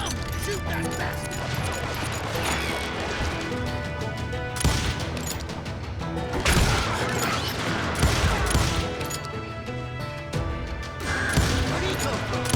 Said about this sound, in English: Shoot that bastard!